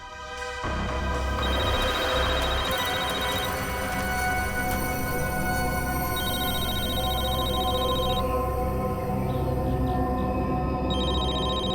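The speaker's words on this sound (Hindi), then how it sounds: "सर, फोन रिंग हो रहा है।" A mobile phone rings during a tense crime-drama scene, its repeating electronic ringtone pulses sounding in steady bursts over a loud, dense musical bed, with no talking.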